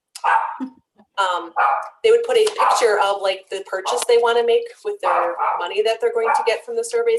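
A pet dog barks and yips in a home, short sharp calls breaking through and under a person talking steadily nearby.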